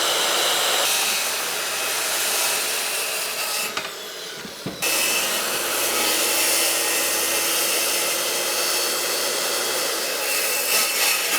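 A saw cuts through wooden boards in a continuous loud, close rasping roar, stopping briefly for about a second midway before resuming just as strong to the end.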